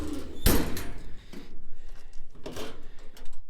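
Adjustable metal drawer shelving on a used service truck is moved, giving one sharp clatter and slam followed by softer thumps and sliding rattles, close by and outdoors.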